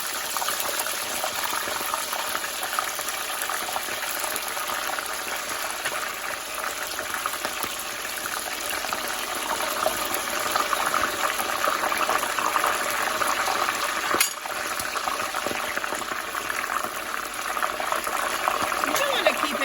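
A steady, loud hiss and crackle of large chunks of pork frying in hot lard continues without a break, with a voice occasionally heard beneath it.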